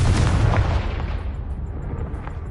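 Spell explosion from the Confringo fire curse in the game Hogwarts Legacy, a loud booming blast with a heavy low rumble that decays slowly over a couple of seconds, heard alone.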